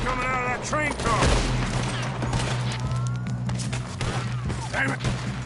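Gunfire in the Red Dead Redemption 2 video game during a train robbery: a rapid string of sharp shots and impacts, close and loud, over steady train rumble, with voices shouting over it.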